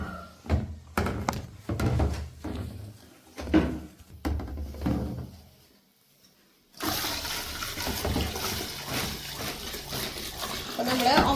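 Water poured into a phenyl mixture for red rose phenyl, arriving as a steady splashing pour after a pause, preceded by knocks and handling thuds with some speech.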